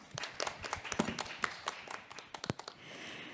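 Scattered, uneven clapping from a small symposium audience greeting the moderator of a panel discussion; sparse individual claps rather than a full ovation, fairly quiet in a room.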